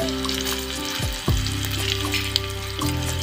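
Tomato and garlic being stirred in a small pan of a miniature play-cooking set, a constant frying sizzle with light stirring, heard beneath gliding background music.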